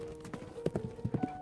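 Horses' hooves clip-clop in an uneven, close rhythm of sharp knocks over a steady low hum, with no talking.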